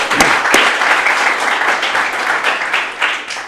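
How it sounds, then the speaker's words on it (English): An audience at a Buckley Country Day School eighth-grade speech event applauds, a dense, loud wash of clapping sustained for several seconds with a couple of sharper claps near the start. "Let's give her a round of applause."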